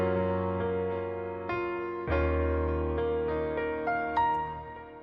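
An RnB piano melody processed with EQ, delay and reverb, its sustained chords and rising notes blooming into a soft, washed tail, steady and fairly quiet with no voices over it.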